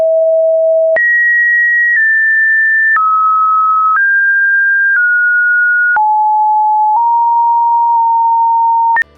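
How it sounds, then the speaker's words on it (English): Loud, steady sine-wave beeps, each held about a second, stepping abruptly between different pitches in a sequence of eight or so tones, ending in a short sharp blip; no voices. "the audio is nothing but loud beeping sounds that change corresponding with when the actual shapes"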